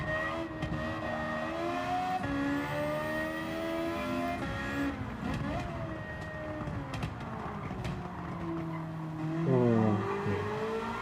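A Suzuki VGT race car in Gran Turismo 7 drones steadily through sustained engine revs, rising and falling through gear shifts with a louder surge and tire squeal near the end.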